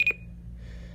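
A REECOM 1630 EAS receiver gives a short electronic alarm-clock beep, two quick bright tones at the very start, followed by low room hum and faint hiss.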